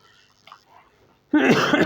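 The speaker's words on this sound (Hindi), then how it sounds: "बड़ी खांसी है सर।" A single harsh cough bursts out suddenly, close and loud, after a few quiet seconds of faint background noise.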